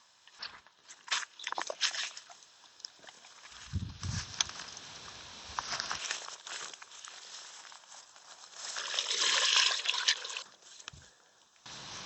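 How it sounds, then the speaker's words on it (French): A flexible camping shower bag being filled with about 4 litres of water inside a van: uneven trickling and splashing mixed with crinkling plastic and soft handling knocks, close and fairly quiet, with no talking. "là je vais remplir ma douche"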